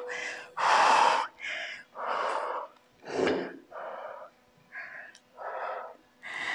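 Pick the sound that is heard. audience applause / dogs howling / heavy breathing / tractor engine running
heavy breathing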